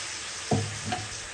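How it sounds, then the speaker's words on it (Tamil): Fried chicken is tipped into a frying masala and stirred, with a close sizzle and a couple of scraping, thumping stirs against the pan. "பொரிச்சு வச்சுருக்க சிக்கனை இதுக்குள்ள போடணும்"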